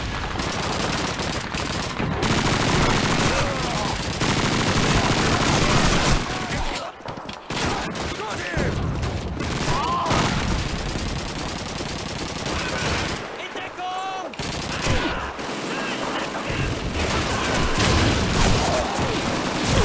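MP40 submachine gun fire in Call of Duty 2's winter war Soviet campaign, dense rapid bursts and battle noise nearly throughout, with short pauses, and a voice talking over the gunfire.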